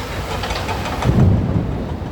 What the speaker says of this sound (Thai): โอ้ฟ้าร้องนักนั่นเลยครับฟ้าแลบด้วย